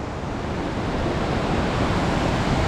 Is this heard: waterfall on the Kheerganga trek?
yes